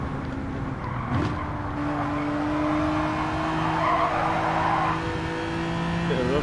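A race car in Gran Turismo 7 oversteers with drawn-out tire squeal over a steady engine drone, the screech swelling midway and fading near the end.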